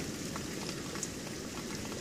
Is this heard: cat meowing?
no